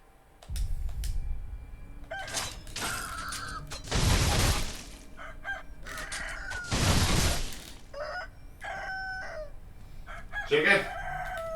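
Chickens crowing in the video game Sekiro, set in a swamp, with two long loud crows and several shorter calls and clucks over a low background rumble, alongside clattering bursts.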